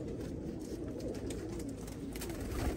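Pigeons coo softly in a busy indoor space, low throaty calls repeating under a constant hiss of background noise, with no one speaking.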